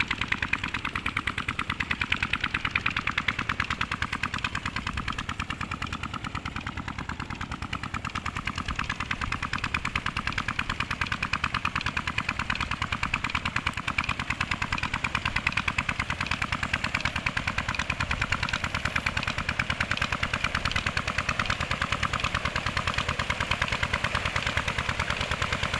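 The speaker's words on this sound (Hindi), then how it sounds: "ये इधर 16 हार्स पावर का डीजल इंजन चल रहा है।" A 16 horsepower diesel engine runs slowly, driving a 4-inch-delivery tube well water pump to irrigate a rice field in Punjab, giving a steady, rapid mechanical chugging that stays continuous and loud throughout with no talking.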